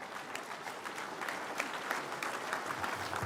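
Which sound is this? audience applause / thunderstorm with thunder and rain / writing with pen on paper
audience applause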